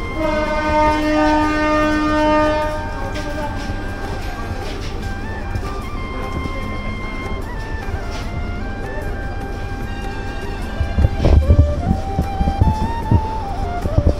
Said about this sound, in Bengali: ট্রেন চলে যাচ্ছে এখন